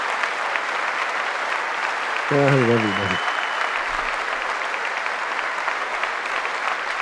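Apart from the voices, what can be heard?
applause at State of the Union address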